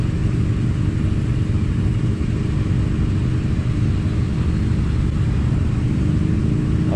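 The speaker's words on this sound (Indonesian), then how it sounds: "di lampu merah ini lumayan banyak sekali kendaraan roda 2, roda" Heavy low rumbling traffic idling and creeping at a red light in Denpasar, Bali, with many motorcycles and cars making a dense, steady engine drone, close and continuous with no speech.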